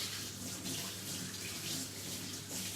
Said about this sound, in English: Right, I'll just wash my hands quickly.